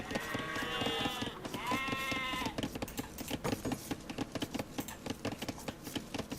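Sheep bleat in a real-time strategy game, two drawn-out harmonic calls up front followed by a busy stream of clicks and game effects, with no talking.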